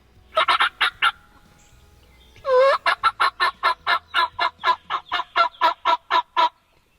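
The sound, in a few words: wild turkey gobbling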